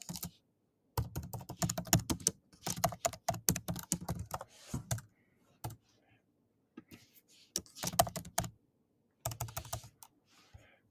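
Typing on a computer keyboard, close and clear, in irregular bursts of rapid key clicks with short pauses between, alone without talk.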